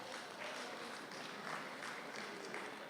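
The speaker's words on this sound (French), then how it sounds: "que je demande d'applaudir très très fort." Audience applause at the official opening ceremony of an event, a fairly faint, steady wash of many hands clapping that continues evenly throughout without voices.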